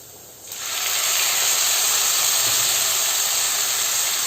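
Tomatoes go into a pan of browned onions for a jackfruit seed curry, and a sudden loud, steady sizzling hiss starts near the beginning and carries on evenly throughout, close by.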